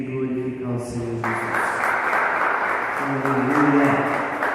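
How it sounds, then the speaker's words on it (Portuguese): A church congregation breaks into loud, sustained applause that fills the room, with a sung or played tone audible beneath it at the start and again later. "Vamos aplaudir e glorificar o Senhor Jesus."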